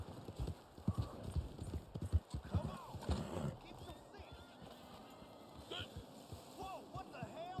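Horse hooves clip-clop in the Red Dead Online video game, a quick steady run of hollow hoof beats close by, with a faint whinny and game background underneath.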